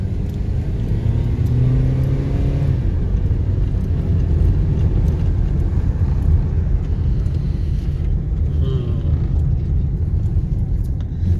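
A car drives over a potholed road near a village in Shangla, a steady loud low rumble of engine and tyres running throughout with no talk.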